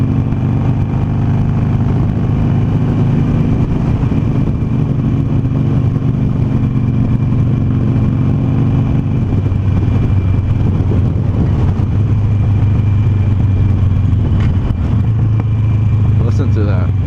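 A Harley-Davidson Sportster Roadster motorcycle engine drones steadily while riding, a loud low rumble mixed with strong wind buffeting throughout, with brief revving near the end.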